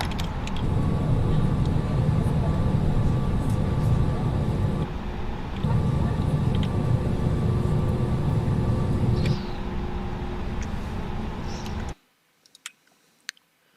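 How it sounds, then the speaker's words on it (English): Jet airliner in a flight simulator rolling and turning on the runway after a circle-to-land approach at Calvi, a steady broadband engine rumble that dips briefly and then cuts off to near silence near the end. "we'll spin the aircraft around at the end and then taxi back up to the stand"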